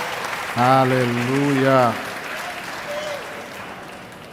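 A church congregation claps steadily through the whole stretch, a dense even wash of hands, while one voice calls out briefly over it near the start.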